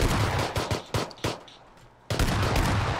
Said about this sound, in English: Shoot this guy with the pistol.